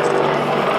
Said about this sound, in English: The helicopter will now set up for one of the most difficult maneuvers